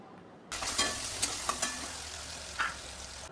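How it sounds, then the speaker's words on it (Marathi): Crushed garlic cloves and tomato sautéing in a pan, a sizzle that starts abruptly and continues as a close hiss with several sharp stirring clicks. "आता लसूण देखील आपण चांगलं असं परतून घेऊयात"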